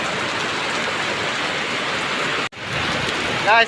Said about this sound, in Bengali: অনেক বৃষ্টি বৃষ্টি আর বৃষ্টি অনেক বৃষ্টি হচ্ছে